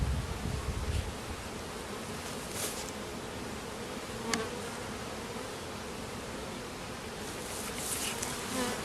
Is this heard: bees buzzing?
yes